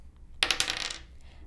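A single die is rolled onto a table in a dice game, with a quick burst of several hard clattering bounces that settle within half a second, close and alone.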